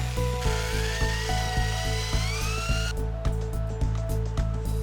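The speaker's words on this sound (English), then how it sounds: "Use a jigsaw to carefully cut along the trace line." A loud, continuous high-pitched jigsaw whine with rapid rhythmic chattering, cutting a sink hole in a bathroom countertop, close up.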